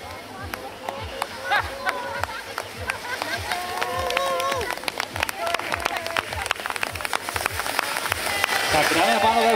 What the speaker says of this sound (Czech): potleskem podporujete Mračkovou Johanku